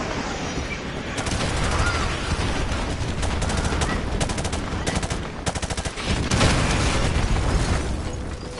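Heavy gunfire and booming blasts from an artillery strike in Modern Warfare 2 Remastered, sustained rattling bursts and explosions layered close and loud for several seconds, with a brief lull before another surge.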